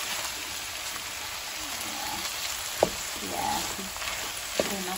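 A runner bean and potato curry sizzles in a pan, a steady close hiss of frying with a couple of faint sharp clicks from a utensil.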